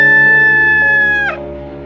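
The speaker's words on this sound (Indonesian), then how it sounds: "Suara ayam hitam berkokok keras dari arah rumah" A black rooster crows loudly and close, one long sustained call that holds steady and then breaks off at the end, with no other voices.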